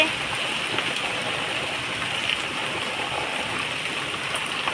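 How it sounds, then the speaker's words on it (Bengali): Heavy rain falls outdoors during a storm, a constant dense rushing patter without pause, moderately loud and unaccompanied by speech. "বাইরে প্রচণ্ড ঝড় বৃষ্টি হচ্ছে"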